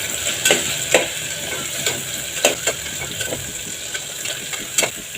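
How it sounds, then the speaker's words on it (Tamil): Goat spleen sautés with onions in a pan over a medium flame, a constant close sizzle broken by repeated sharp scraping and tapping of a spatula stirring at an irregular rhythm. "கொஞ்சம் நேரம் நல்லா இந்த மாதிரி வதக்குங்க"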